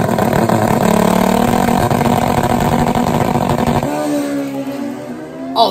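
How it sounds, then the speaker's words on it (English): Pro street drag racing motorcycles on street tires with no wheelie bar roar loudly and continuously nearby, then the engine pitch rises as they launch down the strip. "these motorcycles, these engines are pushed to their breaking point every single time out"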